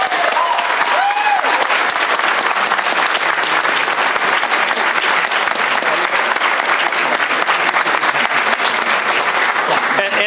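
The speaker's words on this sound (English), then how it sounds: "Can we give a round of applause to our panel," An audience at a public information forum in a city hall claps for a panel, dense continuous applause from a large crowd, loud and sustained throughout with a few voices mixed in.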